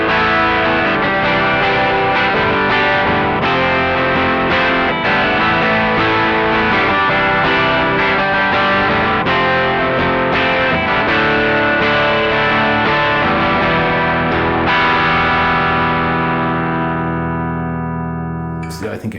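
An electric guitar, a Telecaster's back wide-range humbucker, played through a Hotone British Invasion Vox-style amp pedal with boost and reverb in the effects loop, rings out in loud, driven chords that sustain and decay to silence at the end.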